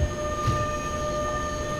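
An E 186 electric locomotive hums steadily while driving in the SimRail train simulator in Poland, a continuous mechanical drone with steady tonal whine and low rumble, no talking.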